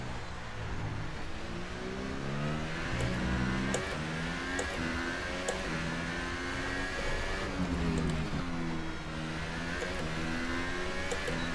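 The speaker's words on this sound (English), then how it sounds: "The first engine I heard was the V6." A V6 Formula 1 engine in the F1 2018 racing game revs and shifts through gears, a loud buzzing whine climbing and dropping in repeated steps over a steady run.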